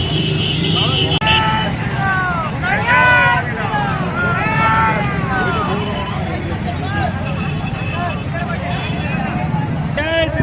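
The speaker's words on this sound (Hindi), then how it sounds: "यहाँ पर ट्रैक्टर भी शामिल हो चुके हैं, 3 ट्रैक्टर, नया नया ट्रैक्टर देख सकते।" Three new tractors roll along in a Ram Navami bike rally in Saraipali, their low engine rumble running steadily beneath a lively mix of crowd voices and calls.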